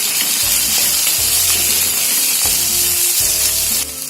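Tomatoes frying and being stirred in a pan with garlic, ginger and coconut for a matar paneer curry, a steady loud sizzle broken by repeated scraping stir strokes, with no talk.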